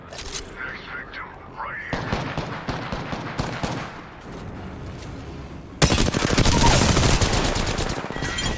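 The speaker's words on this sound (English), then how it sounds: "here's the gunfight that we're going through right now" Rapid bursts of automatic gunfire and sharp shots crackle in an Apex Legends firefight, growing denser and louder toward the end, with quiet voices faintly underneath.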